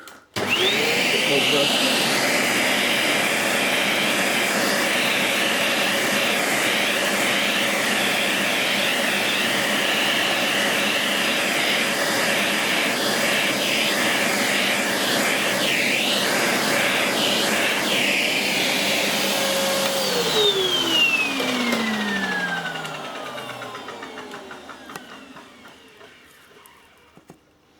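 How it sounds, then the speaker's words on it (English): A vacuum hoovering up grass clumps whines loudly and steadily for about twenty seconds, then spins down with a falling pitch as it switches off; a brief word of speech is heard over the noise. "I'm just going to have a quick hoover of that to bring it"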